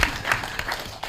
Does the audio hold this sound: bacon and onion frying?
no